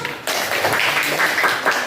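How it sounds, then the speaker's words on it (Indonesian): Schoolchildren in a classroom break into applause after a sudden onset, a dense, close patter of many small hands clapping steadily for under two seconds. "Semuanya tepuk tangan dulu."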